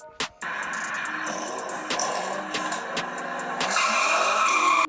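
Hot Wheels die-cast toy cars race down a track, with a continuous plastic rolling roar rising in intensity, punctuated by sharp clicks as they cross track joints, close and loud throughout.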